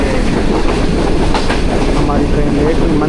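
The Green Line Express running past a railway station without stopping, a steady loud rumble of wheels and carriages with faint rhythmic clatter throughout.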